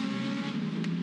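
Aussie Racing Cars roar around the Adelaide street circuit, a loud, continuous engine drone from a close pack of cars, with a brief rise near the end.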